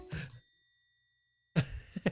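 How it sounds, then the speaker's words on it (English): A small bell gives a single clear ding during a live immigration Q&A stream. The ring is bright and close, then fades into silence, with brief talk just before and after it. "I'll ring that bell a couple times."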